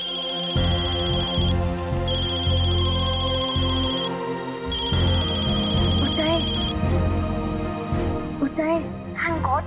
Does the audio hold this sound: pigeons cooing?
no